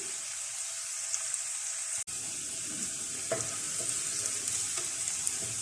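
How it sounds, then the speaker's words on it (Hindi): Onions fry in a pan until light brown, giving a steady sizzle. Occasional stirring clicks are heard, and there is a brief interruption partway through. "प्याज को हल्का ब्राउन कर लेते हैं।"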